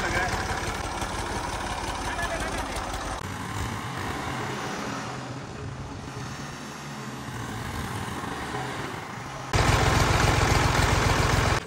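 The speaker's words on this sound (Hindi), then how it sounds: "भाई मैं फर्स्ट टाइम ट्रैक्टर चलाने लगा हूँ" A tractor engine runs loud and close with a rough, rattling drone that dips slightly midway, then surges heavier near the end as the throttle opens, while a voice talks over it.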